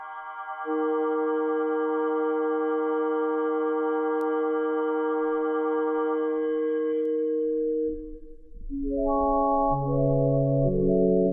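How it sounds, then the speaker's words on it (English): A sustained synthesizer tone holds steady for several seconds, then drops away and returns low-pass filtered toward a sine wave, a purer, rising series of electronic notes; no voices. "is sounding more like a sine wave"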